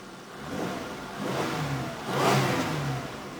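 A 1998 Oldsmobile LSS engine is revved twice, rising from a steady idle to moderate swells of mid-pitched engine roar and falling back, heard close with no talk.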